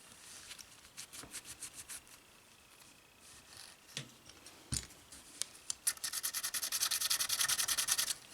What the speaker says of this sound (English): And now I'll need to scuff up the black with 220.